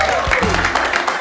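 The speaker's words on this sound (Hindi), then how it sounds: "Please start clapping and welcome Tanmay." A studio audience claps for contestant Tanmay, a brief burst of applause mixed with a voice talking over it.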